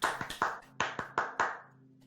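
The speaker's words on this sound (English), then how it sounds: "everybody clap along here already" A small group of people clap along in a loose, uneven rhythm, about eight sharp hand claps in two seconds, close and fairly loud over a low steady hum.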